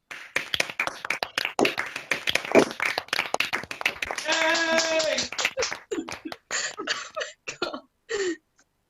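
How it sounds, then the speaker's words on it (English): Graduating medical pharmacology students at a 2021 online ceremony unmute on a video call to clap and cheer for each other, giving scattered, uneven hand claps and a few voices and whoops mixed together, close and compressed. "I welcome you to unmute yourselves to cheer and clap for each other"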